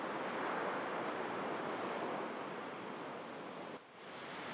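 Ocean waves surging against molten lava where it enters the sea at a newly forming black sand beach on Kīlauea, a steady, dense roar of surf with a brief dip near the end.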